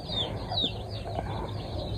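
Free-range desi chickens cluck softly and continuously against a steady farmyard background, with a few brief higher calls and no talking.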